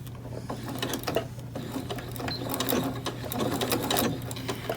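Sewing machine back stitching along the edge of a Velcro strip, a steady close mechanical clatter of rapid needle strokes with a low motor hum underneath, no talking.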